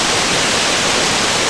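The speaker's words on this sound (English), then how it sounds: "here we have a breathtaking waterfall" A roadside waterfall roars as a steady, dense wash of falling water, loud and unbroken from start to finish, with no voices over it.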